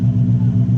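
Brief, loud low engine rumble from a car idling or revving during a decibel test, a steady pulsing drone at close range with no voices.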